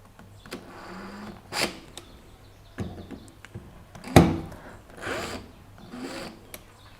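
Small metallic clicks, scrapes and taps come from unscrewing the adjustment on a Rali 220 Evolution hand plane, scattered and irregular across the clip, with one sharper knock partway through, close and fairly quiet.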